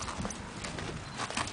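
Hooves of a horse being worked in a corral clop steadily on the ground, moderately close and fairly quiet against a continuous outdoor background, with no voices.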